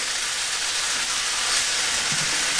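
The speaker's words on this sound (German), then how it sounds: "Und lass den Fisch hier weiter brutzeln" Fish fillets frying in a pan on a stovetop turned up to full heat give off a steady, loud, broadband sizzle that holds for the whole stretch, with no voices.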